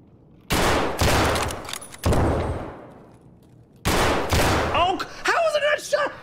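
Escape From Tarkov gunfire: two sharp, loud shots close together near the start, another a second later with a long echoing tail, then a second close pair of shots, followed by someone speaking.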